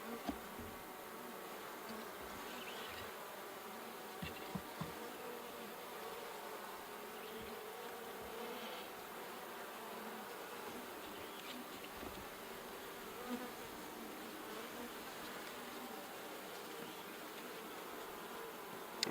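Honey bees hum in a soft, steady swarm around an open horizontal beehive being split, a faint continuous buzz with occasional nearer passes and light handling clicks.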